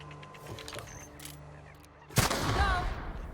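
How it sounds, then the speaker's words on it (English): Explosion in the video game The Outer Worlds, a sudden loud blast with a rumbling tail that breaks in after a quieter stretch of low background sounds. "Why did that one explode?"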